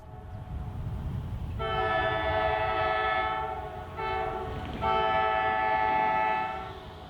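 An Arkansas & Missouri Railroad Alco diesel locomotive rumbles through quiet Van Buren neighborhoods, sounding its horn in two long, loud chord blasts over a steady engine drone, fairly near with no talk.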